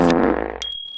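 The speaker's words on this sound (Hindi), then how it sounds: "ये भैंसिया पादती बा का?" Comedy fart sound effect played as a buffalo breaking wind: a loud, low, buzzing rasp lasting about half a second, trailing off into a brief thin whistle-like ring, heard alone.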